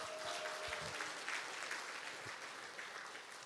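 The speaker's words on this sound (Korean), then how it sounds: "박수 한번 안 주시는가요?" Dense applause from an audience at a sales success academy event in Byeonsan fills the room evenly and holds steady without fading.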